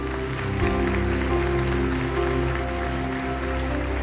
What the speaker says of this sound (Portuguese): Você pode dar um forte aplauso ao Senhor?